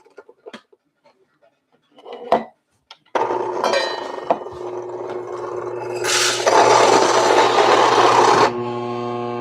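A coffee grinder set to a coarse grind. After a few clicks and a knock, the motor starts with a rough grinding roar, rises into a louder straining burst, then settles into a steady hum as the burrs jam.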